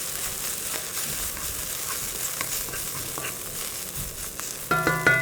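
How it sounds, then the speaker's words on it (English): Garlic, spring onion and coriander stalks fry in a pan with a steady, bright crackling sizzle, close and continuous, a faint clink of utensils near the end. "get my garlic and spring onion in first"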